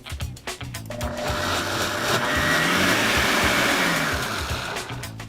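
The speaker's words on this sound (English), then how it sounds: "Now we're going to blend the carrot puree until the smoke has roughly dissipated." A Breville blender whirs loudly blending carrot puree, spinning up after a few clicks and holding a steady grinding drone before winding down.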